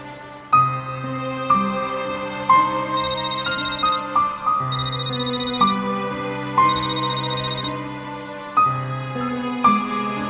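A mobile phone ringtone plays a repeating melodic tune over about ten seconds, with bright chime-like bursts recurring in a steady pattern, loud and close, with no talking.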